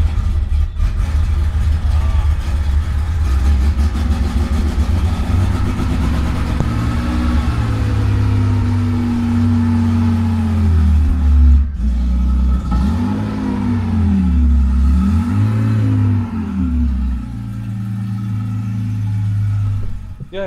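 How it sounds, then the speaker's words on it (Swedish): A Porsche engine rumbles steadily, then rises and falls in several rising revs near the end, loud and close throughout. "Jag startar Porschen på det här."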